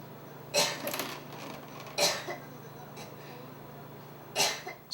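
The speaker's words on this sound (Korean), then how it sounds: "30여 분 동안 기침이 멈추질 않는다." Repeated harsh coughs from a woman in a prolonged fit, three loud bursts spaced a second or two apart with quieter wheezy breaths between, close and indoors.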